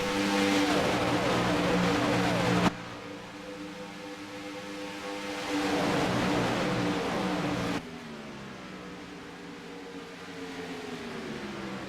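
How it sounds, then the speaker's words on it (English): Race car engines drone and rev through a motor race broadcast, sweeping pitch changes rising and falling as cars pass, with abrupt shifts in loudness between stretches of engine noise and no talk. "Not sure exactly what's going on with Travis's car"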